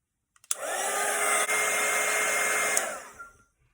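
A hair dryer blows on a wet watercolour painting of a Christmas cottage, close and loud, switching on with a click, holding a steady rushing whir for under three seconds, then cutting off and winding down.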